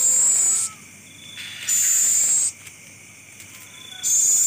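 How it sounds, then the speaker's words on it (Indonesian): An owl calls at night where birds roost, giving three loud, harsh hissing screeches, each about a second long and separated by short pauses, close by with a faint background hum and no talk. "ada suara burung hantu, guys"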